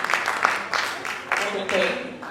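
Audience applause at a roundtable of a translation and interpreting capacity-building seminar, a few uneven bursts of clapping with people talking over it.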